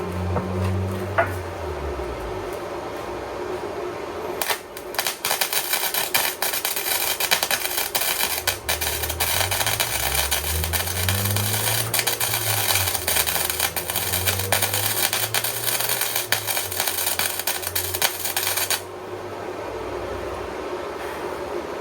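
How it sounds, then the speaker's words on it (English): Steady crackling buzz of welding on a 1961 Mercury Comet car body, running continuously for about fourteen seconds before cutting off, with a low machine hum and rising tones underneath. "I am going to have to weld all the way around to get it to seal"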